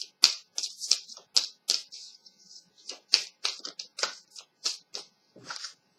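Tarot cards shuffled loosely by hand, a run of quick, crisp papery flicks and slaps in uneven bursts, close and dry with short pauses between.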